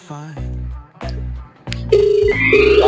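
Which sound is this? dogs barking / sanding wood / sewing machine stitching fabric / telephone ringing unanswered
telephone ringing unanswered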